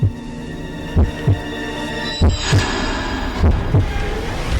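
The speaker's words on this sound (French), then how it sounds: "Dans cette pièce, il y a un battement de cœur en trop." Heavy, slow heartbeat thumps in a regular double-beat rhythm, loud and close over a droning low hum, set in an eerie ancient-tomb scene.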